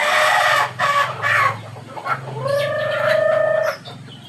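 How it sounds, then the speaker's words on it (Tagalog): Chickens cluck loudly nearby, then a rooster lets out a long, drawn-out crow at close range. "Daghan din siya manok ko."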